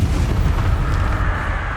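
Confringo fire spell explosion in Hogwarts Legacy: a loud, sustained, rumbling blast with heavy low-end roar filling the whole moment, with no talking over it.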